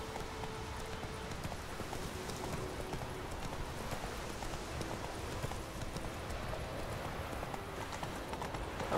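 Hooves of a horse in The Witcher 3: Wild Hunt clip-clop at a steady trotting rhythm, moderately close and continuous under a light ambient wash.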